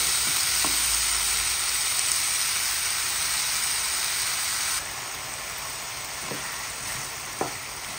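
Bitter gourd (ampalaya) sautés in a hot pan with a dense, continuous sizzle and hiss that eases slightly partway through. A few soft utensil taps are heard, and no one talks.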